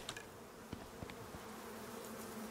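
Bees buzz faintly in the Icarus survival game, a thin continuous hum with a few soft clicks, distant and quiet, with no talk.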